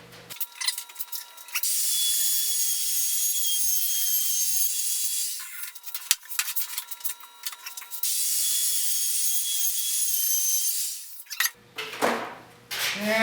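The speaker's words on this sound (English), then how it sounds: "I'm just going to run my router around the outside edge of this thing" A power router with a round-over bit whines at high pitch in two long passes, rounding over the edge of a wooden shop dolly, with bursts of handling noise between and after.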